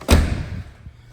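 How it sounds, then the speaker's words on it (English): A BMW 1 Series 118i M Sport five-door hatchback door is shut once, giving a single solid, close thud that decays quickly into quiet. "we can shut that door"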